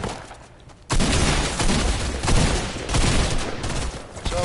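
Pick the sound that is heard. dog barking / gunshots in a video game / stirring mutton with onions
gunshots in a video game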